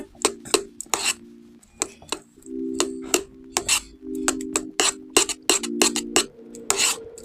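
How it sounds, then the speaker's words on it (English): Veggie dip stirred in a bowl, a series of close, sharp clinks and scrapes of utensil against the bowl in an uneven rhythm, with a steady low hum beneath. "now let's give that a good stir"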